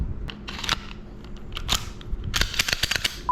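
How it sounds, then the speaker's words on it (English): A Taurus G3 pistol is reassembled close up, its slide and metal parts giving sharp clicks and snaps scattered over a few seconds, ending in a quick cluster of mechanical clacks. "And putting it back together is just as easy."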